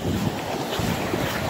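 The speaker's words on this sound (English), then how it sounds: "Oh yeah, the waves are big." Big waves and strong wind on Lake Erie at a fishing spot, a steady roaring wash of surf and gusting wind buffeting the microphone throughout, loud and continuous with no talk.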